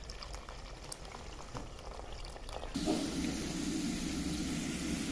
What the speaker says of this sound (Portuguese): O feijão já tá refogadinho, agora eu vou colocar água para ele criar um caldinho.